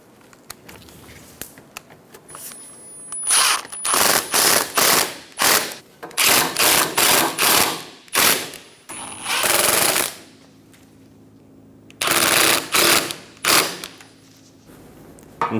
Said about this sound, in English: Install the 4 screws.